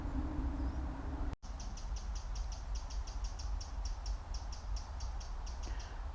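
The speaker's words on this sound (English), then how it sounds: "I think that's a wren shouting at me." A wren in November woodland gives a rapid, steady series of sharp, high scolding ticks, moderately close and clear over quiet background, following a brief low hum and a handling thump.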